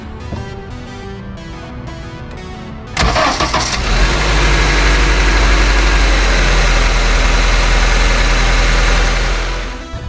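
A 2003 second-generation Honda CR-V cranks briefly and starts after spark plug replacement, then settles into a steady, loud, close idle with a deep low hum.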